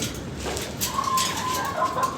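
Tiger breed chickens on a farm give a drawn-out, tonal call over a low, steady background murmur of the flock. The call is moderately close and fairly quiet, with no talking.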